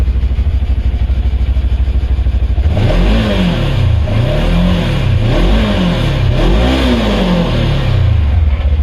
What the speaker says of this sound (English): I'm going to rev it up for you.